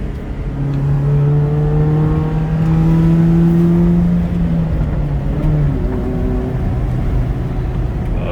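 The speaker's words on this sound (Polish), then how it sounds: "O, tak cały samochodzik chodzi." A Chrysler Sebring LX convertible engine runs at a steady, loud idle throughout, with a constant low hum and a few drifting tonal whines.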